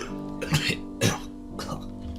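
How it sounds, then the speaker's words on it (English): Three coughs, two sharp and close together followed by a softer, rougher one, over a steady low hum in the background. "I started coughing before I could respond."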